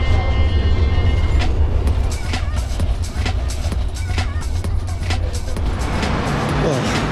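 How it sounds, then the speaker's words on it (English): Loud, steady rumble of a modern tram riding through Lisbon, with rattles and clunks from the car throughout and a constant low drone, heard from inside the packed, hot carriage. "to get there I'm going to be taking the tram, but it's not one of those charming old style trams, it's one of the more modern trams"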